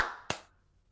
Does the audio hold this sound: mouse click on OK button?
no